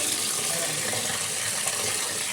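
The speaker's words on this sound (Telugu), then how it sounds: "సో నెక్స్ట్ అయితే దీన్ని అయితే వాటర్ వేయాలి." Water runs into a cooking pot in a home kitchen, a loud, steady pouring rush lasting a couple of seconds with no voices.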